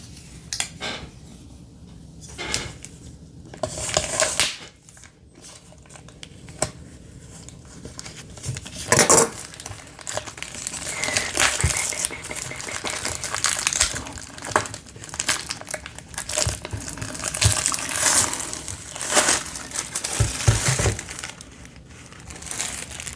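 Close, loud crinkling and tearing of Vanidox carbonic acid shampoo and conditioner packaging being ripped open, irregular bursts of crumpling plastic and cardboard continuing throughout with no talking.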